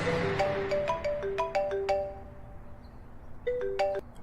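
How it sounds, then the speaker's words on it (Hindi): A mobile phone ringtone plays a clear, repeating chiming melody in two bursts with a short gap between them, loud and alone, used as a sound effect in a spoken horror story. "तभी उसका फोन बजा"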